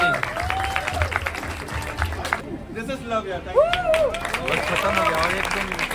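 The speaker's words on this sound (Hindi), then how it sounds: "जोरदार ताली।" An audience at a talent show applauds and claps as winners are announced, with crowd chatter and voices mixed in over the clapping throughout.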